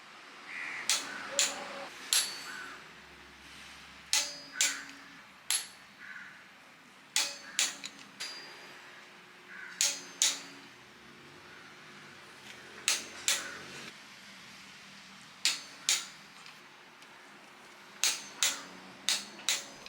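A torque wrench tightens cylinder head bolts to 65 Nm, giving a run of sharp, bright metallic clicks that come in small clusters of two or three, repeated regularly over a quiet background.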